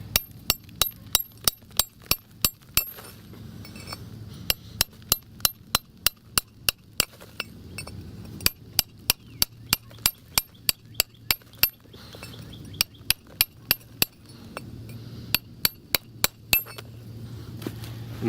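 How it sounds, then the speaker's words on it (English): A fiberglass hammer taps the back of a masonry chisel while cutting paving stone for a patio build. Sharp metallic clinks repeat in quick bursts of several strikes, separated by short pauses, close and clear against a quiet background. "take the chisel, put it at an angle like this, and just rest it in my hand, and then with the hammer just tap it on the back"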